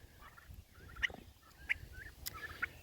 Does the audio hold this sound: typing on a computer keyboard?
no